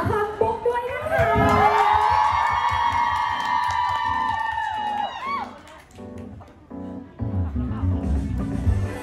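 Fans scream and cheer loudly at a fan event during a standee giveaway, a sustained high-pitched crowd shriek that swells, then breaks into scattered shouts and bursts of talk.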